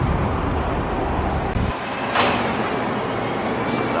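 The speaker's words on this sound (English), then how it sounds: "This is an articulate bus coming out of the busway" An articulated bus pulls out of a busway at South Brisbane's Cultural Centre station, giving a steady, fairly loud roadway rumble with a brief brighter swell midway, and no voices.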